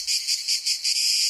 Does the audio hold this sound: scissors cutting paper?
no